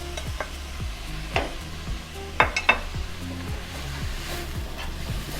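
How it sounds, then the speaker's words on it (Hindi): A spoon repeatedly scrapes and stirs shredded chicken with spices in a pan. The strokes are rhythmic and close, with a few louder clinks against the metal and a faint sizzle underneath. "इसको अच्छा सा मिक्स कर लें।"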